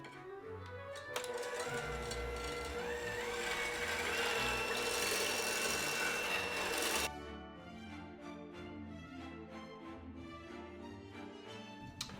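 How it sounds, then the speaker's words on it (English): Two cups of heavy whipping cream whisked toward stiff peaks with a mixer: a loud, steady motor whir that shifts slightly in pitch for about six seconds, then stops, leaving lighter clattering and tapping. "we're just going to whisk this up until it forms stiff peaks"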